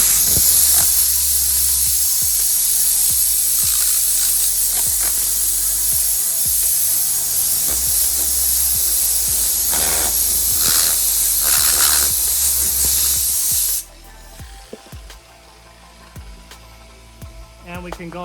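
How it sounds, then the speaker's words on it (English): Compressed air blasting a polishing pad clean during car detailing on a Ford Fiesta ST, a loud continuous close hiss for about fourteen seconds that cuts off abruptly, followed by quiet handling noises. "how I clean it is I get some compressed air"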